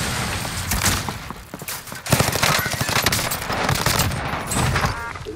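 Rapid automatic gunfire from Call of Duty: Modern Warfare rattles in dense, loud bursts, with heavier shots and short gaps between the volleys across several seconds.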